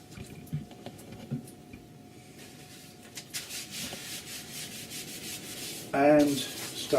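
A kitchen towel soaked in citrus oil rubs over a wood surface to remove liming wax, giving soft, close scrubbing strokes that grow more continuous and slightly louder toward the end.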